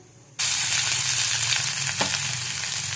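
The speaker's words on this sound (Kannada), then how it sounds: "ಈಗ ಒಂದು ಬಾಣಲಿಗೆ ಎಣ್ಣೆ ಹಾಕ್ಕೊಂಡು ಸ್ವಲ್ಪ ಸಾಸಿವೆ, ಜಜ್ಜಿರೋ ಬೆಳ್ಳುಳ್ಳಿ" Mustard seeds and crushed garlic hit hot oil in a frying pan with a sudden, loud burst of sizzling. The sputtering crackle then holds steady, with a brief sharp pop near the end.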